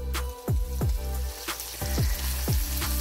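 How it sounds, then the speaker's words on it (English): Loud sizzling of beaver tail frying in butter, with repeated low thumps and scrapes from stirring or moving the pan about twice a second. "I'm frying this beaver tail up"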